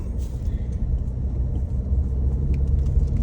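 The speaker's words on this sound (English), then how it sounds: "there's barely enough road for my car to go up." A car climbs a steep, narrow mountain road, its engine a steady low rumble heard from inside, with no talking.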